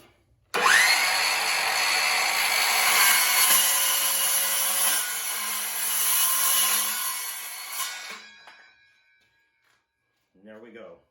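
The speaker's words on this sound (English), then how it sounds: "take the circular saw" A circular saw spins up, cuts steadily through wood for about seven seconds, then winds down, loud and close. A voice follows briefly afterward.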